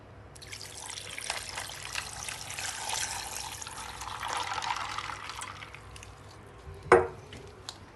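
Water pours steadily into a jug of mint lemonade with ice, a soft, close trickling fill that runs for several seconds before a sharp clink and a few drips.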